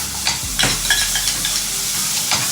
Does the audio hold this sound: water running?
no